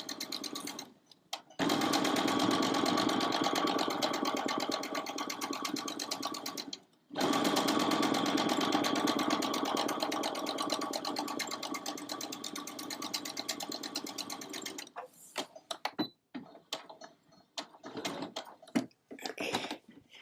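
Sewing machine stitching burlap, a steady close mechanical whir running for long stretches with two brief stops, then choppy short bursts toward the end.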